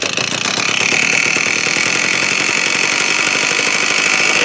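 A repaired Stihl BR420C backpack blower, fitted with a new recoil starter and carburetor, runs at a steady idle. Its loud, even engine drone and high whine continue without a break for the whole clip.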